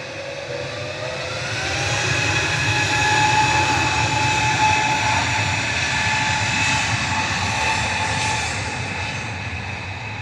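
A Jet2 airliner arrives at Manchester Airport, its engines a steady whining roar with a tonal hum that swells and then holds, heard from a distance with no talk.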